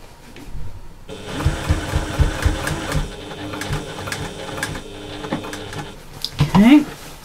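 A sewing machine runs steadily while stitching along a bag's boxed seam, a continuous mid-level mechanical whir with faint needle ticking for most of the span; it stops near the end, when a voice briefly speaks.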